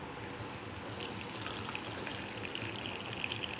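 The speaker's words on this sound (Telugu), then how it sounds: "ఇలా వేడి నీళ్ళు పోసుకోవాలి" Hot water is poured into a container holding a home remedy mixture, making a soft, continuous gushing and splashing that stays even throughout, with no talking.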